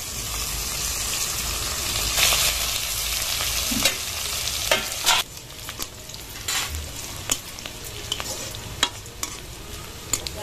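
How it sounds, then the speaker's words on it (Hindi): Onions and green chilies fry in a pan with a steady, close sizzle, broken by stirring scrapes and a few sharp crackles and pops. "प्याज और मिर्चा हमार कुछ ऐसे टाइप के ब्राउन के होतले बढ़िया से तल दे है"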